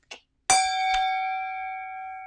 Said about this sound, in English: this is the only channel that uses a brass bell to remind you to